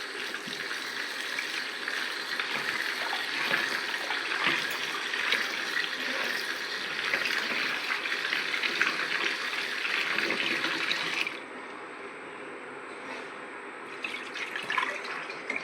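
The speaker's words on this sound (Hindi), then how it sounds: "पालक धो लेते हैं।" Tap water runs steadily while spinach is washed beneath it in a kitchen, a continuous close splashing rush that softens and thins toward the end.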